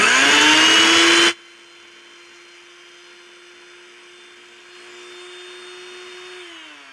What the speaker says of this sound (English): we're gonna put a little sugar in the blender and we're gonna make it like a powder